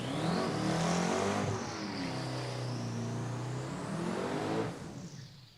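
A drag race car's engine idles loudly and steadily at the starting line, a dense continuous roar with a high whine that rises and falls before easing off near the end.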